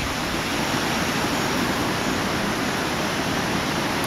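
Shimona Creek, swollen after Hurricane Irene, rushes continuously in a steady, full roar nearby, with no other sounds.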